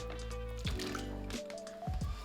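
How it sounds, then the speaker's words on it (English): Marinade of cilantro, soy sauce and olive oil poured into a plastic bag with skirt steak, heard as close squishy, wet glugs and drips in short bursts over a steady background hum, no talk. "Pour our marinade in it."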